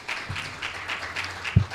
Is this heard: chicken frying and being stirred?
no